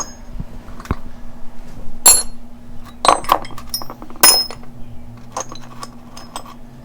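Metal rocker arm and Jake brake bolts from a 671 Detroit Diesel engine clinking together as they are sorted by hand, scattered sharp clinks close by with quiet gaps between them.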